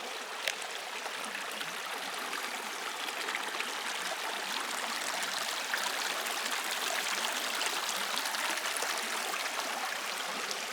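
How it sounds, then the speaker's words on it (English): A stream flows along the Hopper House Trail at Cherry Springs, a steady broadband rush of running water, close and even with no break, no voices. "Lots of cool water features through here"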